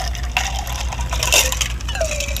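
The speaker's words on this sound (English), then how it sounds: "you pour the cocktail ice and all" A tiki cocktail is poured ice and all into a glass, with ice clinking, rattling and crunching in a close, busy burst.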